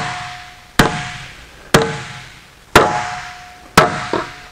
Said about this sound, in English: when you're hammering this stuff out